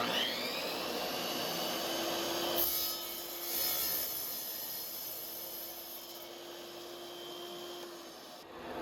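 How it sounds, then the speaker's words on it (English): Wet saw with a good blade cutting a narrow piece of tile for a kitchen backsplash install, a steady close whine and grinding hum running continuously throughout with slight shifts in pitch as the blade works through the tile. "a wet saw like this with a good blade will be just fine"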